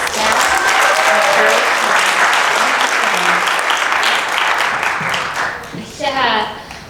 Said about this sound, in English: if we could just give her a round of applause